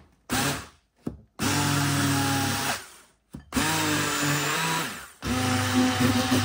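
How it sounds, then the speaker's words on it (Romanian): A kitchen mixer blends boiled, strained poppy seeds in loud bursts of whirring, stopping and restarting several times with short pauses between runs. "l-am strecurat și am să-l mixez un pic cu mixerul, dar nu tot"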